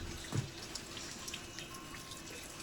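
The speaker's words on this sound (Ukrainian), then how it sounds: "дощ ще йде." Steady rain patters outdoors with a continuous soft hiss and occasional drips, close and fairly faint.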